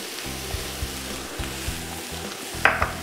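Fennel and leeks beginning to cook in a pan, giving a soft, even sizzle close by, with a few light utensil taps and a brief louder stir near the end.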